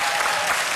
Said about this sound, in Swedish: Ulf, en stor applåd.